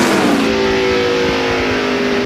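NASCAR stock cars at the 2002 Pontiac Excitement 400 roar away together at the race start, a loud, continuous wall of engine noise with rising revs throughout.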